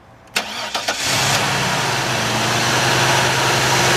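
A 2001 Cadillac Eldorado ESC engine cranks briefly with a few sharp turnover bursts, then catches and settles into a steady, smooth, fairly loud idle close by.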